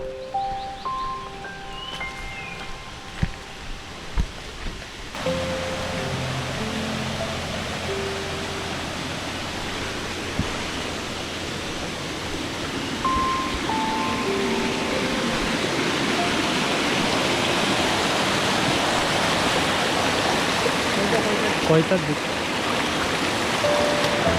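Canal water streams through a jungle in the Konkan after days of heavy rain, with a steady, close rushing flow that swells in after a quieter opening few seconds and continues without a break, with faint voices at times.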